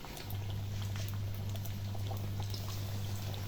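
Tofu pempek, a Palembang fish cake made with tofu, sizzles in hot frying oil with a steady bubbling hiss and faint crackles throughout, with no talking.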